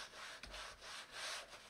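Engraved leather is sanded by hand in two quick back-and-forth strokes, a close, breathy rasping rub with a short pause between them.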